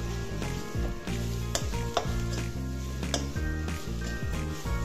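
Paneer curry ingredients with spices and black pepper powder being stirred in a hot frying pan, a steady close sizzle broken by repeated scraping and clinking strokes of the spoon against the pan.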